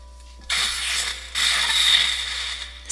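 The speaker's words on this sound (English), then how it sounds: "These EMPs, they don't explode, but they do make a cool noise." EMP device from the Voltz mod in Minecraft, going off with a harsh hissing buzz in two back-to-back bursts under a faint steady low hum, with no talking.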